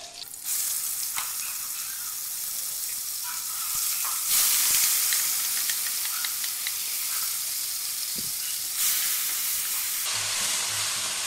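Mashed onion paste fries in hot oil with nigella seeds and two green chillies, a steady close sizzle and hiss filling the whole stretch with occasional stir scrapes and no talking.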